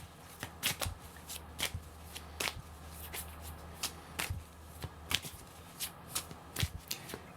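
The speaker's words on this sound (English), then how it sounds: "So I'm shuffling the cards." Tarot Illuminati deck (Rider-Waite-Smith style) being shuffled by hand for a Celtic Cross reading, with repeated crisp riffling and flicking card bursts at an uneven rhythm, close up, over a faint steady hum and no talking.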